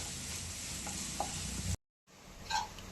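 Chopped onions with a pinch of salt sizzle steadily in a pan as they fry toward brown, a continuous hiss with light stirring clicks, briefly cut off by a gap before resuming.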